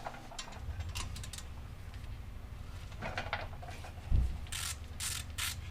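A ratchet clicks as it loosens an Allen bolt on a wheel speed sensor during a Trailblazer SS front end rebuild, with short bursts of close mechanical ratcheting and no speech.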